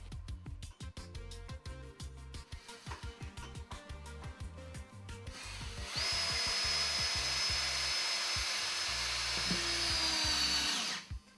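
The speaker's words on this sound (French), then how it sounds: "Calé sur les vis de maintien et ensuite il suffit de visser." A power drill driving screws through wood fibre insulation panels in a loft, with bursts of whirring and grinding at first, then one long sustained run with rising pitch near the end, close and loud with no talk.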